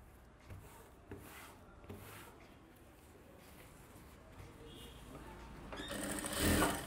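A sewing machine stitches a silk skirt for a one-year-old baby, running quietly and steadily with a few soft knocks. It speeds up and grows louder near the end.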